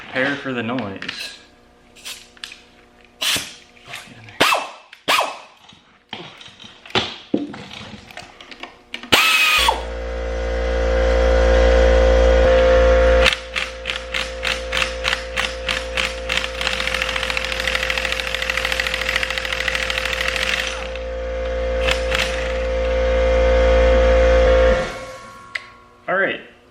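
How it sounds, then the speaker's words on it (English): An air compressor in a workshop during work on a 1987 Toyota Corolla runs loud and steady with a constant hum, starting abruptly mid-clip and cutting out near the end, after earlier clanks and tool noises. "Compressor is bloody annoying."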